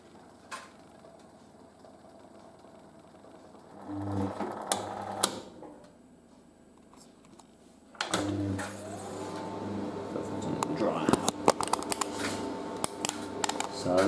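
A Merloni Electra WD1100 washer dryer on a 50°C acrylics and delicates cycle whirs and hums with motor drone, clunks and rising mechanical whine, heard nearby with sharp clicks and rattles.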